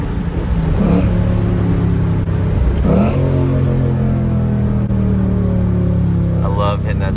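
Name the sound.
Ford Mustang engine accelerating hard in second gear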